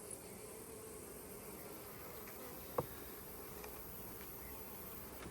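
Honey bees buzz steadily around a hive, a continuous droning hum with no one talking over it and one brief sharp tick partway through.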